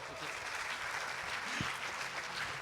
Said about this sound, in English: have a round of applause for Mario.